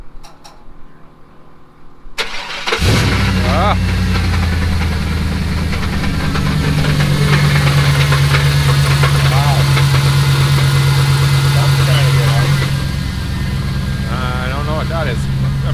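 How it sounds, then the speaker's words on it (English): An LS-swapped truck engine with loose flex plate bolts cranks after a short quiet stretch, catches, and settles into a loud, steady, lumpy idle close by; a voice briefly speaks over it. "attempting to start his truck"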